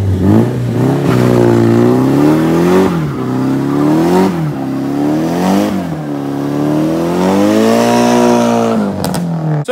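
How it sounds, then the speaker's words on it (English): Nissan 180 fitted with a turbo revving hard through a burnout, a loud, continuous engine howl rising and falling in pitch over several surges, with no talking. "I did a burnout."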